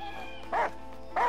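Two short, clear dog barks from the video game Last Day of June, spaced about half a second apart over a quiet background hum.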